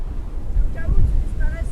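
Sea waves wash along the north shore of Naxos island as a steady low surf roar with wind buffeting the microphone, and a brief voice-like tone rises over it midway.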